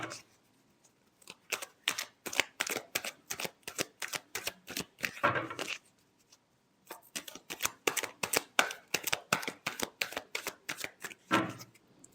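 Tarot cards are shuffled in a quick rhythmic run of crisp riffling snaps, close and clear, with a short pause midway before the shuffling resumes.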